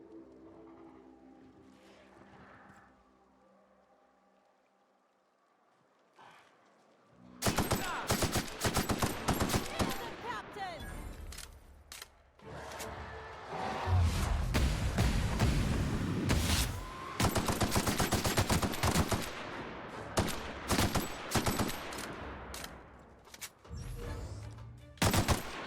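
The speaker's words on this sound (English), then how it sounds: "Yeah, I'm liking this machine gun." Automatic machine gun fire in the video game The Outer Worlds, on Supernova difficulty. Quiet at first, then long loud bursts of rapid shots come close and continuous, with short pauses between volleys.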